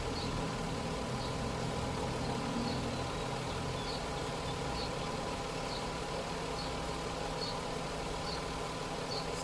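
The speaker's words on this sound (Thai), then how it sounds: "เครื่องยนต์ครับผม V6 2000cc ครับเครื่อง VQ20 ครับฟังเสียงเครื่องยนต์เลยครับ" A 2001 Nissan Cefiro 2.0 V6 Executive with its 2.0-litre VQ20 V6 idles steadily, a smooth continuous hum with a faint regular ticking above it, heard alone throughout.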